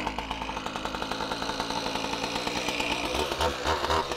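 A gas-powered quickie cut-off saw, started cold after priming the carburetor, fires on one pull and runs loud and close, its engine buzzing in a steady, slightly uneven idle with rhythmic pulses throughout.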